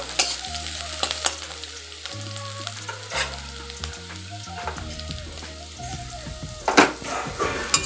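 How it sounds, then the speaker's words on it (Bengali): Grated and whole garlic fry with onions in a pan for a jackfruit seed curry. A close, continuous sizzle carries occasional stirring scrapes, over faint steady music in the background. "কিছু রসুন আমি গ্রেট করে নিয়েছি, আর কিছু রসুন আস্তে আছে। ভালো করে ভেজে নিব।"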